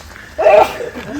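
A single short sneeze bursts out, fairly close, with quiet background noise before and after.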